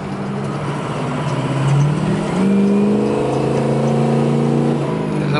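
A Ford Powerstroke turbo diesel crew cab 4x4 dually pickup cruises slowly around 35 to 40 mph, its engine droning steadily from inside the cab with a gear shift and rising pitch midway.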